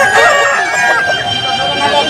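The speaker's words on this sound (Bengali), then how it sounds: "আর এদিকে অনেকগুলাই মুরগি" Chickens cluck and a rooster crows amid a crowd of fowl at a busy duck and chicken market, loud and continuous, with layered calls close to the listener.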